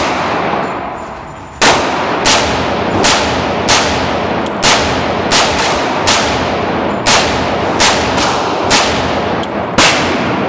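Gunshots ring out at a shooting range from a firearm fed by a Magblock magazine block. After a quiet start, loud sharp reports follow at a regular pace of roughly one every second, each one ringing out briefly.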